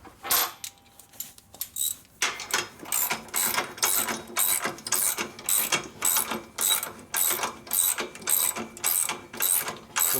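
A ratchet wrench tightens bolts on a 1942 Harley-Davidson WLC motorcycle frame under restoration. The clicks come close and clear in regular bursts of swings with short pauses between them, steady throughout, and nobody talks.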